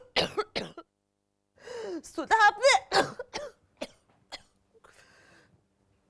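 Harsh, close coughs come in short bursts, mixed with throat clearing and strained vocal sounds, and a few quiet spoken words fall between them.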